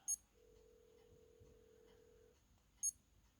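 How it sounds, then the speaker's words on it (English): Timex Marathon digital watch giving one long, steady electronic beep of about two seconds, faint and close in a quiet room, bracketed by two short clicks of button presses. "See, this one beeps with a bit of a long beep."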